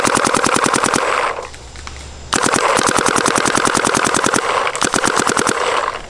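A Planet Eclipse Geo R5 paintball marker fitted with a Twister Vortex bolt fires rapidly at 300 FPS, two long close, loud bursts of sharp evenly spaced shots separated by a brief pause.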